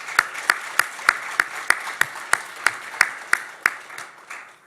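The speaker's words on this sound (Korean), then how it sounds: "우리 서로를 위해서 우리 하나님께 한번 영광의 박수 올려드리겠습니다." A church congregation at a Thanksgiving Sunday worship service claps in unison, about fifteen sharp, evenly spaced beats in a steady rhythm that loosens and fades at the end.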